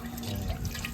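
Running tap water splashes steadily over fermented fish paste being rinsed, a continuous close wash with a low hum underneath.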